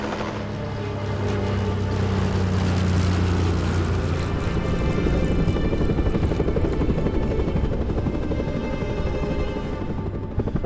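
A helicopter flies over the Southern Alps of New Zealand during a hunt, its steady rotor and engine drone holding loud and constant throughout with a low pulsing throb.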